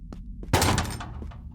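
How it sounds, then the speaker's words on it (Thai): Hammer striking a door in The Ghost survival video game: a few light knocks, then one loud heavy thud with a short rattling decay, followed by softer knocks. "แต่ที่ค้อนนะครับเราทุบประตู"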